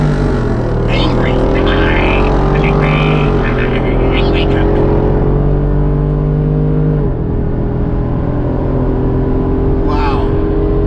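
A Ford Bronco Raptor engine with its exhaust open revs to 3,000 RPM, a loud, steady, throaty roar holding high pitch before dropping back, with a voice briefly audible over it.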